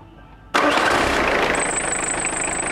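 A car engine cranks and catches abruptly, then settles into a loud, steady idle with a faint high whine rising over it.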